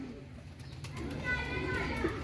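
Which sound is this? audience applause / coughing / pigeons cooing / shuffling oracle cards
pigeons cooing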